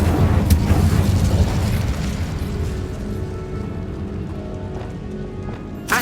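The Incendio fire spell goes off in Hogwarts Legacy as a rushing, crackling burst of flame, loud at first and then thinning into a fading hiss, with a small bump of sound at the end.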